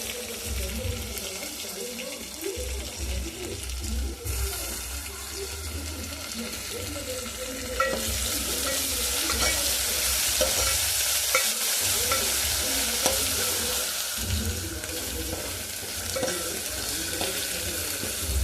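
Rice grains frying in a pan for bagara rice make a steady crackling sizzle with scraping stirs that grows louder and brighter about halfway through, heard up close.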